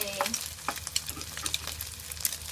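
Fried rice with salted fish, chopped garlic and diced onion sizzles and crackles in a hot pan while being stirred, with scraping and clicking throughout.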